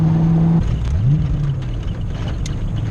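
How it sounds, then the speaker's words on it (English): A 1989 Ford Mustang GT Fox-body V8 engine runs loud and close, a steady droning idle with a brief rise and fall in revs, no voices over it. "this Foxbody engine is so impressive"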